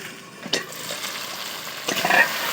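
Chicken fries in hot oil with a steady sizzle and a couple of spoon scrapes as it is stirred; the chicken is well fried and the oil has separated.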